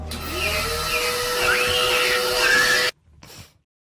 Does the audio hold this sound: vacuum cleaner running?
yes